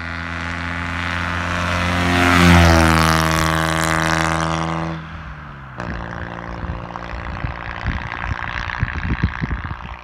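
A loud 20-horsepower Kubota diesel engine with an AMR500 supercharger revs up to a roaring peak, drops off abruptly, then idles roughly with uneven chugging and rattling.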